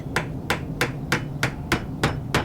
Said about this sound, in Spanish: sacó un martillo y algunos clavos largos